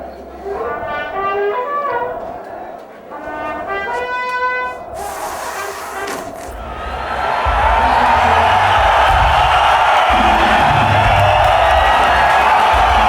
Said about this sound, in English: When we hit the stage, the crowd just went nuts.